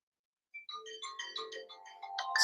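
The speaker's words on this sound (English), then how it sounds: "I'm not going to answer the phone." A phone ringtone starts after a short silence, a bright melodic run of quick electronic notes climbing in pitch, clean and close with no one speaking.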